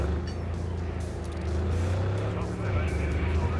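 A car drives up onto a sidewalk in the video game Cyberpunk 2077, its engine a steady, close, low rumbling drone that rises slightly partway through.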